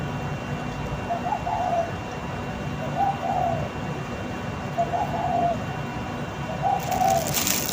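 A dove coos four times at an even, unhurried pace over a constant low background rumble.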